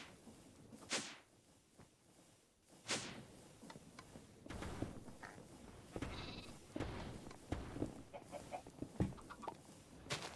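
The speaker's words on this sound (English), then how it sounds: "And another sheep." Minecraft sheep bleating amid other game sounds, with chicken clucks also in the mix; several short calls spread through the clip at moderate loudness, no talking.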